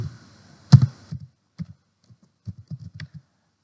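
Keys tap on a laptop keyboard in an irregular run of soft clicks, with one sharper press near the start and scattered keystrokes after it, all close and fairly quiet.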